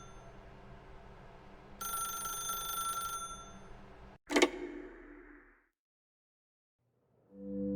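Telephone ringing in the video game The Stanley Parable Ultra Deluxe: a bright electronic bell rings for about two seconds over a low ambient hum, then a sharp click and a short burst, followed by silence.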